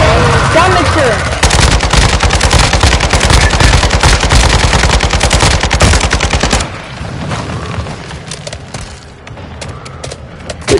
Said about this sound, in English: Why are you shooting me, King?